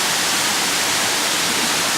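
A waterfall in the Minangkabau hill country of Jorong Bulan Sariak pours as a dense, steady roar of falling water, loud and unbroken throughout with no voices.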